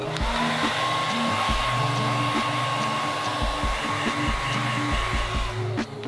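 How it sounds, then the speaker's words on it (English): A hair dryer blows steadily and loudly the whole time, a constant airy roar with a faint high whine. "if you use a blow dryer, it helps"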